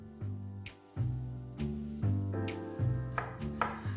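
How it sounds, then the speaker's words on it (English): Onions being roughly sliced with a knife on a cutting board for a mixed vegetable sabzi, a series of distinct close knocks of the blade striking the board at an uneven rhythm, no talking. "The first thing is to slice onions"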